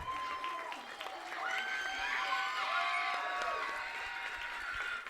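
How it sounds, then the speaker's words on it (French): At a gala, an audience cheers a group of girls after their performance, with high sustained shouts and whoops over scattered clapping lasting a few seconds. "Max d'applaudissements."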